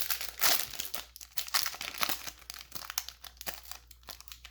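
A hockey card pack wrapper is torn and crinkled open up close, with a run of crisp ripping and crackling bursts of plastic foil, fairly quiet and without talk.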